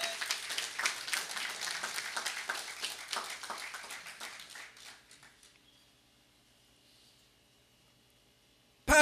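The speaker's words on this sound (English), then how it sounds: "Smith deserves a round of applause for that." Audience applause at a National Health Insurance launch ceremony, a steady round of clapping that fades out over about five seconds, followed by near silence.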